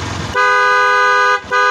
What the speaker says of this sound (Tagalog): Ibusina mo sir, busina mo